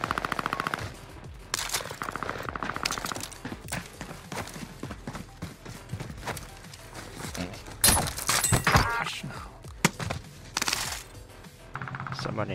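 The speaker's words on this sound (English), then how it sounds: "like everyone's shooting each other" Gunfire rattles through a video game shootout in rapid bursts and single cracks, loud and close, mixed with scattered impacts and clatter, with intermittent voices between shots.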